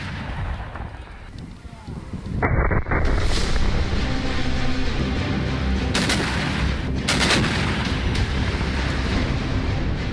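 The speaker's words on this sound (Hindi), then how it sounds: "एक बार इन गोलों की आवाज को सुनिए, समझिए कि आखिर किस तरीके से लगातार गोले दागे जा रहे हैं।" Heavy howitzer artillery fire booms repeatedly in Luhansk, Ukraine, the blasts loud and rolling over continuous battlefield rumble with sharp cracks between them.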